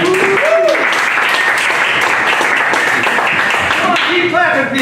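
Dense, loud applause and clapping from a live show audience as a host is brought on stage, with whistles and cheers rising over the steady roar throughout.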